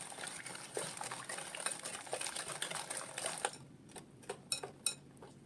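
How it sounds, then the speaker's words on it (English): A whisk beats two large room-temperature eggs in a bowl, giving quick, quiet clicking and sloshing strokes, then a few sharper taps against the bowl near the end. "add 2 large room temperature eggs and give that a good whisk until it is fully"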